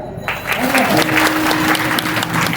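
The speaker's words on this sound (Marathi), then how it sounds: "टाळ्या वाजवा" An audience at a kirtan, a devotional sermon performance, breaks into dense, lively applause after a brief moment, steady and close, with a voice faintly audible beneath the clapping.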